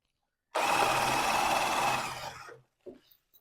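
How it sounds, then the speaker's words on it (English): A power drill bores into a hollow block wall, a loud close whine that starts abruptly and runs about two seconds, then winds down, followed by a few short clunks. "So drill one here"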